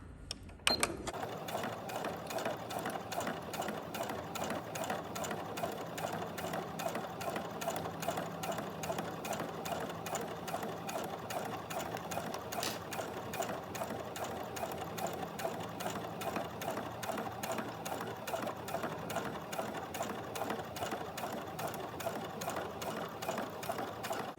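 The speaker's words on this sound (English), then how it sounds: "And I'm going to finish stitching this now." A sewing machine stitches a zipper onto a swimsuit, running in a fast, steady mechanical whir of rapid needle strokes for over twenty seconds after a brief start, close and constant, with no voices.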